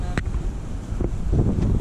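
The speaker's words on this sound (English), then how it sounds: "The wind is definitely picking up" Gusty coastal wind on the way to a sandbar on North Carolina's Crystal Coast buffets the microphone with a low, rumbling roar throughout, with a voice speaking briefly under it.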